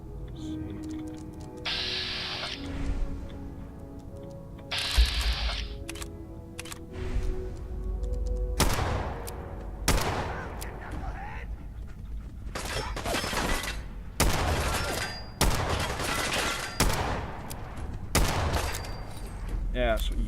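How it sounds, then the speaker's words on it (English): Gunfire from a revolver rifle in the game Fallout 4 rings out in a string of sharp, loud shots spaced a second or two apart, with bursts of game noise between them. "The revolver rifle again, because I think I might need it here for some long range shooting"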